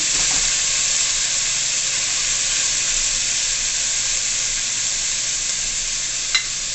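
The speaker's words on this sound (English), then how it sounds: "add my strips and just saute them in" Beef strips for pepper steak sizzle steadily in a hot pan, a dense continuous frying hiss with one brief clink near the end, no voices.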